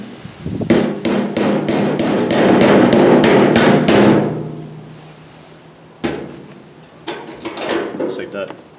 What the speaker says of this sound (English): grab a brass punch, because this doesn't make sparks, and a rubber mallet to take this retaining ring off